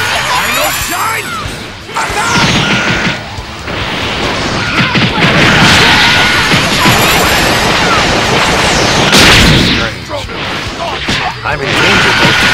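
Final Shine energy attack from the Dragon Ball Xenoverse fighting game: a loud, sustained barrage of crashing blasts and bursting impacts running continuously, with game voices shouting over the din.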